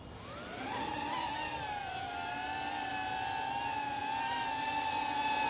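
The motors of a DJI Avata 2 drone spin up into a steady, rising whine with clear harmonic tones that holds through the clip, faint and close by.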